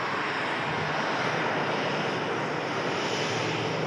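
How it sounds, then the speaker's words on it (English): A Boeing 787 Dreamliner passes near an airport, its engines producing a broad, steady roar that holds at a constant level without voices. "there's the Dreamliner just crossing our paths there"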